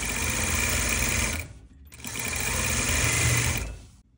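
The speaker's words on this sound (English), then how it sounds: "now I'm stitching edges" A sewing machine stitches the edges of a witch hat brim in two close, steady bursts with a short pause between them.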